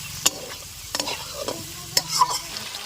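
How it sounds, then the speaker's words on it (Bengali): Ground cumin, garam masala and chili powder frying in a pan give a close sizzle broken by sharp spatula scrapes and clicks at irregular intervals. "দিয়ে আরেকটু ভালো করে ভেজে নেব"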